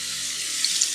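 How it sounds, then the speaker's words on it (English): Cold water runs from a tap to soak a washcloth, a steady, close, hissing splash that carries on without a break. "grab your washcloth and wash it in cold water"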